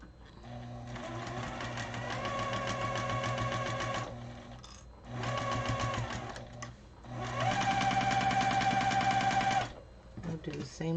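A sewing machine stitches quilt block pieces together in three steady runs of rapid mechanical whirring and clatter, loud and close, separated by short pauses.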